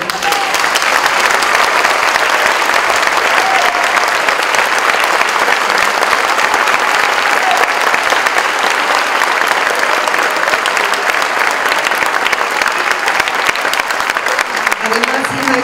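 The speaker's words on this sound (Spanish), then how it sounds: "un aplauso para ellos." Sustained applause from an audience at a book presentation, steady and loud for the whole stretch, with a few voices faintly audible near the end.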